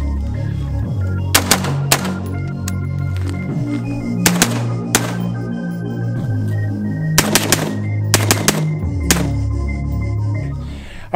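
An AR-15 rifle fires 62-grain soft-tip Speer Gold Dot rounds into a rubber dummy, with loud, sharp shots in irregular bursts of two and three, each followed by a low ringing echo.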